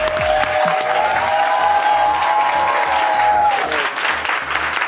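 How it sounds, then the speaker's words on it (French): Studio audience of a French TV game show applauds loudly and steadily as the host is welcomed, a dense sustained clapping wash with a musical sting sounding beneath it throughout. "On l'applaudit!"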